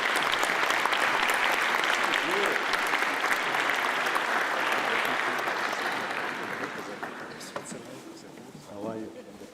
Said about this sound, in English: Please receive him with an applause.